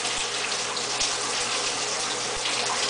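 Steady running tap water gushes without pause, with faint low thumps underneath and no talking.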